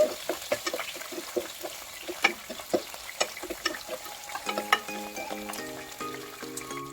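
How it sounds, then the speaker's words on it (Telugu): Chopped onion pieces sizzle and fry in a pan while being stirred, giving a close, steady crackle broken by frequent scraping clicks and taps from the utensil, with no talking. "ఇప్పుడు కట్ చేసి పెట్టుకున్న ఉల్లిపాయ ముక్కలు వేసుకోవాలి ఉల్లిపాయ ముక్కలు కొంచెం కలర్ మారేంత వరకు ఫ్రై చేసుకోవాలి"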